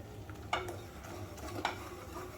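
Gram flour (besan) being stirred and roasted on slow heat in a pan: soft, quiet scraping strokes with a couple of sharper scrapes, under a faint low sizzle.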